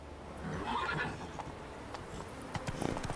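Roach, a horse in the video game The Witcher 3, gives a short whinny over soft hoofbeats, followed by a few clip-clop steps. The sound is fairly quiet and sits over a low game background.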